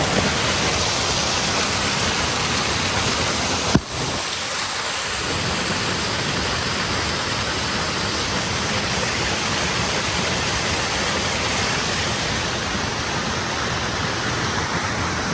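Laos waterfall roaring as a steady, broad wash of falling water close by, constant and loud throughout with one brief sharp knock near the start and no voices.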